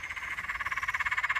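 Green frogs croak at night in a steady, rapid pulsing chorus, the rhythmic calls fairly close and continuous with no voices over them.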